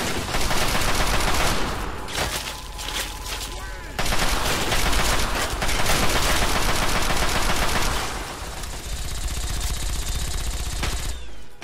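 Sustained bursts of automatic gunfire from a firefight in Fallout 3 rattle loudly for the whole stretch, with brief lulls and dense overlapping shots, a voice faintly underneath.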